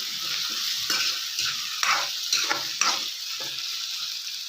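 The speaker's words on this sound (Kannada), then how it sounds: "ಇವಾಗ ಹಸಿ ಬಟಾಣಿ ಹಾಕೊಳ್ಳೋಣ. ಚೆನ್ನಾಗಿ ಫ್ರೈ ಮಾಡ್ಕೊಳ್ಳೋಣ." Fresh green peas frying in a pan, a continuous crackling sizzle broken by repeated scraping stirs, close and fairly steady, with no talking.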